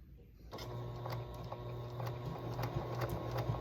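A sewing machine top stitches along the edge of a fabric heart, starting abruptly and running steadily with a rapid mechanical patter and a low motor hum, close and continuous.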